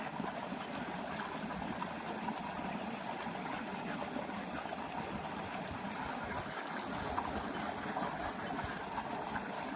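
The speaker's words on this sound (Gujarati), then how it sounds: "હાય કેટલું ઠંડુ એમ પાણી આવે છે" Cold water gushes steadily from a borewell, a constant dense roar and hiss with no breaks, fairly close.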